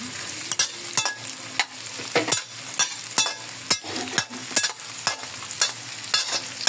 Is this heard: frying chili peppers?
yes